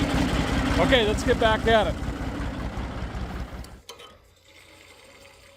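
A diesel tractor engine idles low and steady under a voice, then drops to a quieter, thinner rumble as the talking stops.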